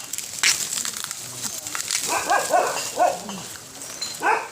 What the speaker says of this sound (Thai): นี่หมาเห่า